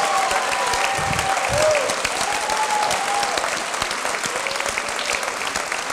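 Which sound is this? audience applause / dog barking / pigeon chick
audience applause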